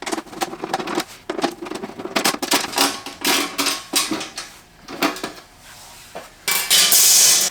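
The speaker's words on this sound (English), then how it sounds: "Now what I need to do is remove these two screws so I can get this cover panel out of my way." Metal clinks and scrapes as two screws are backed out of the cover panel on a deep freezer, a run of short, close taps and rattles with brief pauses between them.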